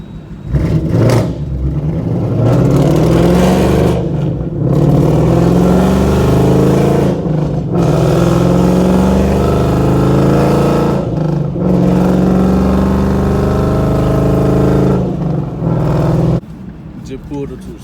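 A straight-piped 5.0 car engine revs hard and drives, loud rising bursts of exhaust roar separated by brief gear-change dips, with people talking inside the cabin.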